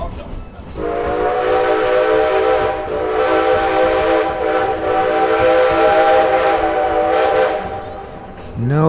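A steam train whistle on a Halloween ride sounds one long, loud, sustained harmonic blast lasting most of the stretch, fading briefly at the end.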